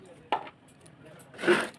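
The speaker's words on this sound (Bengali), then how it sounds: "তো আমি ঢেঁড়সটা কাটবো" Fresh okra being cut with a kitchen knife: two separate dull chops, the second fuller and longer, with quiet kitchen ambience between them.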